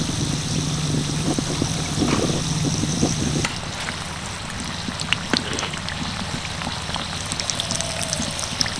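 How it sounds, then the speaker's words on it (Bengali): Cauliflower singaras deep-fry in a generous amount of hot oil in a wok, giving a constant dense crackling sizzle with scattered sharp pops. "এবার তেলটাকে ভালো করে এইভাবে নাড়িয়ে দিচ্ছি যাতে সিঙ্গারার গায়ে ভালোভাবে লেগে যায়।"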